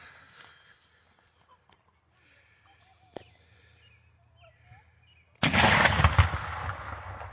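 After a few quiet seconds with faint birds and distant pops, an air vortex cannon aimed at a tree fires a sudden loud outdoor boom that rumbles with a noisy, turbulent tail.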